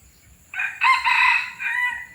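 A hybrid red junglefowl rooster crows one loud, close call of about a second and a half, a short rising opening note followed by a long sustained stretch that trails off, heard alone with no talk.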